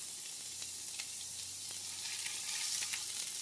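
Chicken parmesan meatballs fry in a #8 Lancaster cast iron skillet, giving a steady close sizzle with crackling pops throughout, swelling slightly louder toward the end, no voices.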